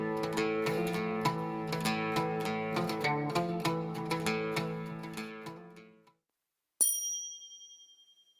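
A Turkish lute, a wooden string instrument with eleven strings, is plucked in a quick, ringing melodic run of notes that fades out. After a short pause comes a single bright struck tone that decays slowly.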